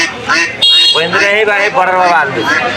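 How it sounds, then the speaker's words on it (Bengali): Domestic ducks quack loudly and almost without pause at a rural duck and chicken market in Dhara Bazar, Haluaghat, the close, raspy calls overlapping one another. "পাশে দেখেন একদম দেশি হাঁস"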